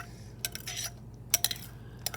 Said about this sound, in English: So I'm giving it one last good stir